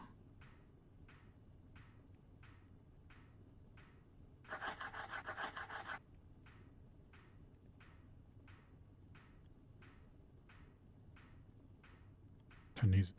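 A single rasping saw-crafting effect from the modded Minecraft pack GregTech: New Horizons, lasting about a second and a half, rises over a steady background of soft regular ticks and a low murmur.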